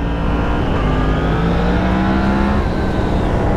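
A 2016 Yamaha MT-10 motorcycle engine accelerates hard in mode A, a loud continuous rising roar with climbing pitch throughout, up close and without speech.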